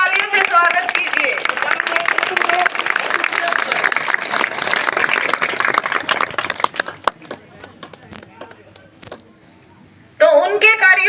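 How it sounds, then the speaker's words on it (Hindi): Applause from a village public gathering welcoming a police station officer, loud sustained clapping for about seven seconds that thins out into a few scattered claps before a voice speaks over a loudspeaker. "जोरदार तालियों से स्वागत कीजिए।"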